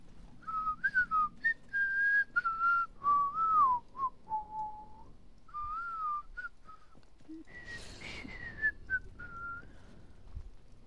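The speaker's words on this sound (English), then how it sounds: "I'm trying to whistle the Harry Potter theme" A person whistles the Harry Potter theme alone, a clear melodic line of sustained and sliding notes with short pauses, ending in a brief, breathier phrase.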